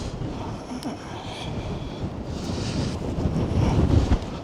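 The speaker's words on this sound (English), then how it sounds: "And that wind, I don't know if you can hear it on the microphone, but it's certainly getting stronger." Strong gusting wind buffets the microphone at Blackpool seafront during 60 mph winds and high tide, a loud, rough, continuous roar that swells toward the end with surf churning underneath.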